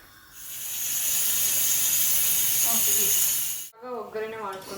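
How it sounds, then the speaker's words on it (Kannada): Spices for a tempering hit hot oil in a pan with a loud, sustained hiss that swells for about three seconds, then cuts off abruptly as a voice begins speaking. "ಇವಾಗ ಒಗ್ಗರಣೆ ಮಾಡ್ಕೊತಿದ್ದೀವಿ."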